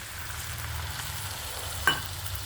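Prawn roast sizzles steadily in a pan while it is stirred, with a soft continuous frying hiss and one brief scrape of the utensil near the end.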